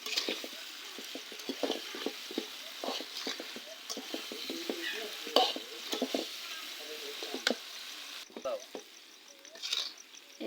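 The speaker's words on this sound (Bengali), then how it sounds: "এবার দিয়ে দিব তেঁতুলগুলোকে দিয়ে ভালো করে এটাকে কষিয়ে নিব মশলার সাথে।" Tamarind being stir-fried with spices in a pan for a sweet-sour pickle, a busy crackling sizzle with frequent spatula scrapes and stirring clatter, close by and fairly loud, no talking.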